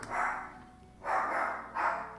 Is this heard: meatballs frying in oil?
no